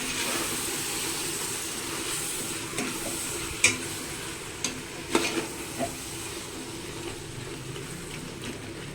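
Mushroom kurma masala, with mushrooms, curd, chilli powder and salt, fries in a pan under a continuous close sizzle, while a spoon scrapes and knocks against the pan in several sharp clicks. Nobody talks.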